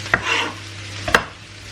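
A spoon stirs mushrooms and capsicum into pan-cooked vegetables with carrots, two short scraping strokes close by over a soft background sizzle, with no voices.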